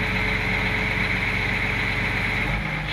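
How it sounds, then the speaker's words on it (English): A diesel excavator engine with low power runs in a steady, loud, continuous drone, its low rumble shifting slightly near the end as the speed sags. "So you can see the engine speed will be dropped and the engine will be"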